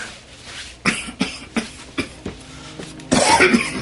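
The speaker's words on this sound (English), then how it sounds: "The cough isn't going to get any better by itself." A string of harsh, dry coughs, about six in quick succession, followed by a louder throaty hack.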